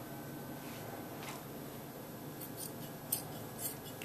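Scissors cutting through a single layer of fabric for a robe, with a steady soft snipping and rustle throughout and a couple of sharper close clips near the end; no talking.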